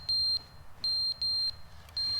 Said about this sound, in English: The carbon monoxide alarm?